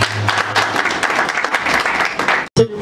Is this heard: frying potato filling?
no